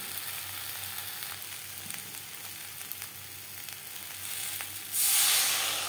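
Ground spices fry in oil with potato and green banana for a thin singhi fish curry, giving a steady close sizzle with faint stirring, then a sudden louder hiss near the end.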